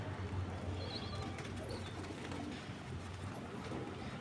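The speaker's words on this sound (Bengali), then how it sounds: "বাচ্চা পায়রা ওরা নিজেও বুঝতে পারে না ওদের পেট ভরা আছে না খালি আছে। ডাকাডাকি করতে থাকে, করতেই থাকে, করতেই থাকে।" Young pigeon chicks call from inside a loft with repeated soft cooing and faint chirps, low and fairly distant, over a constant background hum with no talking.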